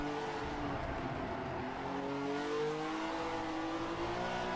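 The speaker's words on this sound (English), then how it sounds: "I'm running in high revs quite a bit, so I hope the engine survives." Racing video game engine of a 1967 F1 car at Silverstone, held at high revs with a steady, slightly wavering whine and shifting pitch, moderately quiet and with no talk.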